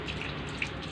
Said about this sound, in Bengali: আজকে তুলসী গাছে জল দিচ্ছে।